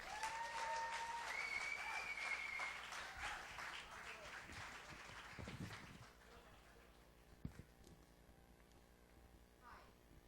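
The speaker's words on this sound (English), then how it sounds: "So a very big round of applause, please, to Axton and Ranjana." Audience applause welcoming the two hosts onto the stage at a preview show event, loud and sustained at first, then thinning out, with whistles and voices mixed in.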